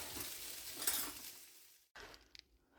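Grease sizzles and crackles as softened food fries in a pan, with a steady frying hiss that drops out briefly before resuming alongside a few light stirring clinks.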